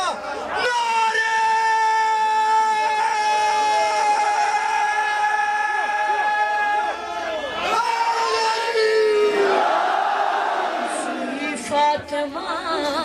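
A crowd chants slogans at a live manqabat gathering in Nomal, Gilgit, their sustained, loud, harmonically rich voices carrying steadily throughout with brief shifts in pitch.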